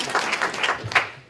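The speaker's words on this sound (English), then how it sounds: "I hope you get a good round of applause, Tobi." An audience at a city data conference panel gives a short round of applause for a speaker, a brief burst of mixed clapping, with a faint voice or cheer briefly mixed in, that thins out at the end.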